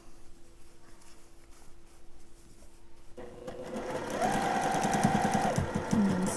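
A sewing machine stitches a dress bodice seam, its steady rapid motor hum starting midway and running loud and close, after a quieter stretch with a faint tone.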